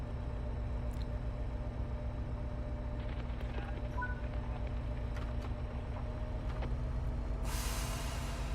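Air brakes apply in Train Sim World 6 on the Caltrain Peninsula Corridor. A faint, steady low rumble runs throughout, then a sudden loud rush of air hiss bursts out near the end.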